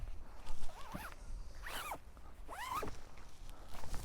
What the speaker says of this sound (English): So you zip it like this.